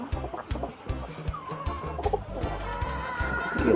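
Pigeons in a home loft coo and flutter amid repeated knocking and tapping sounds, moderately close, with no talk.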